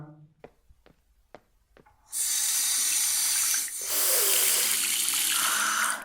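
Water runs from a tap into a sink while blood is washed off hands, a loud steady gush that starts abruptly after a few soft taps and continues alone for several seconds.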